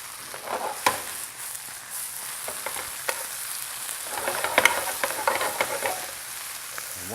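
Spinach wilts in a hot pan with a soft, steady sizzle, broken by scattered scrapes and clicks of stirring. No voices.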